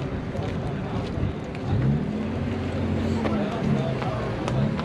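A Mazda Miata drives past at a cars and coffee meet, its engine note rising and falling briefly amid crowd noise and nearby chatter.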